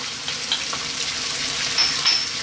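Chopped red onion and garlic fry in a pan for a chicken tomato stew, giving a steady close hiss with faint stirring, no voices.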